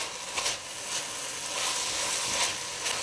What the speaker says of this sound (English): Open your pot and you will notice that the mushroom is getting cooked.